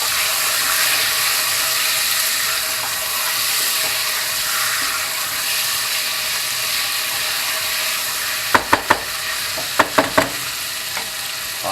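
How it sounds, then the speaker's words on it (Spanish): Meat sizzles steadily in a hot pan as it is browned for Spanish baked rice, a loud, continuous frying hiss, with a few sharp clatters of a utensil stirring against the pan near the end. "Vamos a echarle ahora la carne. Vamos a removerla ahí de guay."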